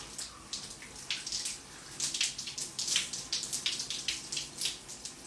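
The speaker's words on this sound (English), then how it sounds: "just get in there and rinse until your skin feels comfortable and clean, but not tight" Splashing water at a sink as a face is rinsed, with repeated soft splashes and trickles in an irregular rhythm over steady running water, fairly quiet and close, with no talk.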